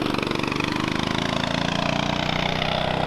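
Up close, a Tillotson 212R race engine runs at a steady rapid chug, its pulsing beat even and unbroken throughout.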